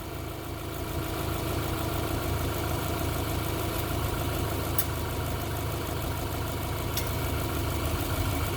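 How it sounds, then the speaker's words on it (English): A 2008 Subaru Impreza engine idles steadily at around 700 to 800 RPM during a transmission fluid service, producing a continuous low, even hum with a faint mechanical ticking and no talk. "Idle for this thing is anywhere between 700 and 800 RPM."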